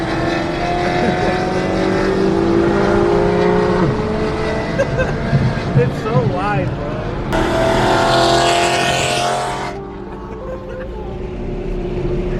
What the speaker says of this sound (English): it's honestly the best sounding exhaust on the E92. Look how loud this shit is.